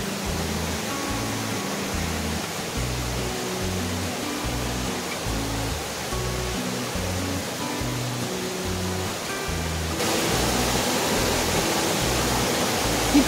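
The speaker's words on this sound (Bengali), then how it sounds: "এই নদীর স্রোত পাথরের উপর দিয়ে বয়ে গিয়ে এক অসাধারণ দৃশ্যের সৃষ্টি করেছে" Deo river water rushing over rocks below Devkund waterfall in Odisha, a steady, full roar of flowing water that continues without break and swells slightly louder toward the end, with no voices.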